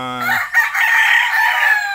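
A rooster crows loudly and close by in a poultry setting where chickens are kept for sale, one sustained crow with clucking around it.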